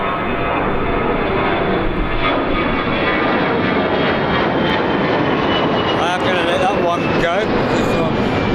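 A fixed-wing airliner lands at Birmingham Airport in a crosswind, its engines producing a loud, sustained roar that fills the whole stretch at close range, with a voice talking over it.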